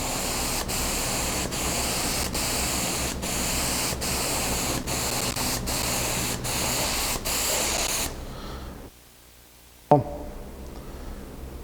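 A spray gun applies a light tack coat of polyaspartic coating across panels, a loud steady hiss broken into a rhythm of short regular passes, then cutting off to near silence with a single sharp click.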